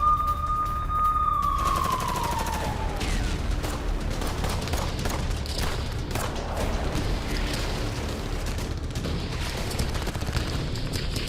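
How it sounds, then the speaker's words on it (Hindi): Gunfire between IDF and Hamas fighters in Gaza: rapid crackling bursts of shots echo continuously at mid distance, with a brief siren-like wail sweeping down at the start. "इजरायली सैनिकों पर ताबड़तोड़ फायरिंग करते हुए दिख रहे हैं"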